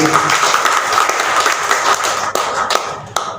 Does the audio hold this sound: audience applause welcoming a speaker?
yes